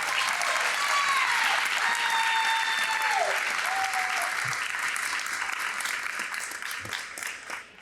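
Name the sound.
applause for a college signing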